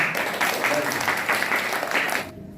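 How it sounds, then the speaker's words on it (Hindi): Group of children clapping together in a classroom activity, a steady dense patter of many small hands lasting a couple of seconds before stopping abruptly, with faint voices mixed in. "वेरी गुड, ताली बजाओ।"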